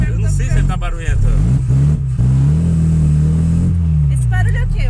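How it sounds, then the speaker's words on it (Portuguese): A Chevrolet Chevette car's engine runs with a steady low drone and uneven rumble in the cabin, heard under several people talking loudly over it. "Esse barulho é o quê? O motor? É o motor?"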